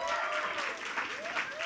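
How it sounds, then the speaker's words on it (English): Applause from an audience at a student pitch competition event, steady and moderately loud across the short stretch, with a voice faintly audible beneath it. "Round of applause."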